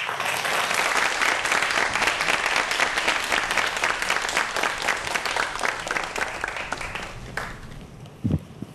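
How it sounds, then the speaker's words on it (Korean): A studio audience at a Korean televised medical lecture claps to welcome a university medical professor, sustained dense applause that tapers off near the end, followed by a brief sound as it quiets. "김주한 박사님 큰 박수로 모시도록 하겠습니다."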